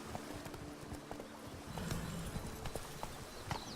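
Horse hooves clip-clop in a steady trotting rhythm in The Witcher 3: Blood and Wine, with a faint whinny among the footfalls over quiet game ambience.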